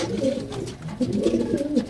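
Caged pigeons at a pigeon farm coo in soft, repeated throaty bursts, two clustered phrases close by, with faint background noise and no talk.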